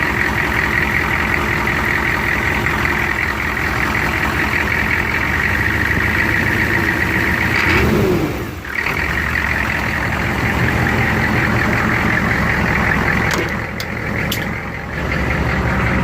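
A 6.5 diesel engine idles steadily after an injector pump replacement, a continuous loud low rumble with a brief dip partway through and a few faint clicks near the end, with no talk.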